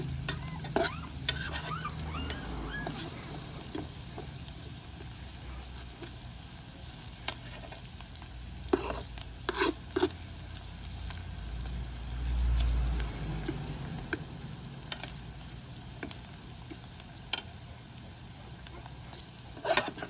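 Onions and garlic sizzle in a pan while being stir-fried with corned beef, a continuous frying hiss broken by frequent scraping and clinking stirs, close and moderately loud.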